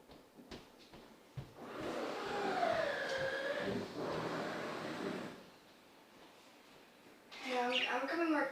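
Pet parrots chatter indoors with squawks and whistled, voice-like warbles rising and falling, a few clicks and knocks at the start and a burst of bright chirping near the end, fairly faint and close.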